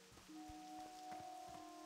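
Rain falling in the World of Warcraft Classic game world, a steady soft patter and hiss that runs the whole time, with a few low thuds and a sustained tonal hum from the game audio.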